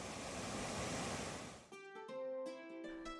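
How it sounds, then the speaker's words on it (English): Seneca Mills Falls on the Keuka Outlet Trail in the Finger Lakes pours with a loud, steady roar for under two seconds before music cuts in and replaces it. "Being so accessible and having a consistently good flow of water, these falls are great to visit year-round."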